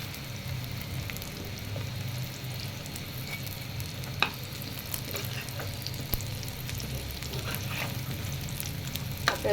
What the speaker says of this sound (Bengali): এই কাবাবগুলো ভাজতে তেমন একটা বেশি তেল লাগে না হালকা স্লো তেলের মধ্যেই ভাজা যায়